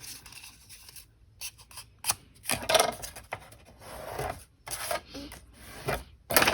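Scissors cut through scored cardstock paper in short, crisp snips and rasping slides, quiet and close, with brief pauses between cuts.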